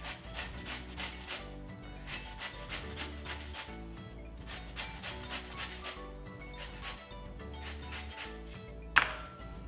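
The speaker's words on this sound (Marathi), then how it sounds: "हे बघा ह्याच्याने आपण कैरीचा किस करून घ्यायचा," Peeled raw mango rubbed against a kitchen grater, giving steady rasping strokes in regular bursts, close up and fairly loud, with a sharp knock near the end and no talking.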